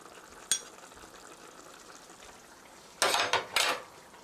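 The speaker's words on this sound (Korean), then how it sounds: "고루 섞어주세요" Sauce for jajangmyeon stirred in a pan, with a sharp scrape near the start and two louder bursts of scraping and sizzle near the end over a faint background hiss.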